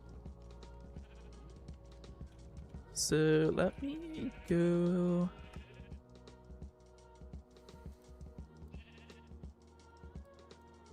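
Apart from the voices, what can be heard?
sheep bleating in the video game Minecraft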